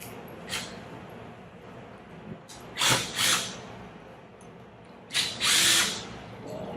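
A power driver runs in short bursts, about three brief whirs, while taking out the 3/16 bolts that hold the air valve on a metal Wilden pump. It sounds close and moderately loud against a quiet background.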